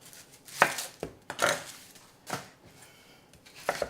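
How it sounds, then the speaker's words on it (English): A knife slicing through a red onion on a cutting board, a handful of sharp, crisp cuts and thuds spaced irregularly, close and fairly quiet, with no talk. "I'm going to use the red onion because it just looks cooler. Just give it a nice slice."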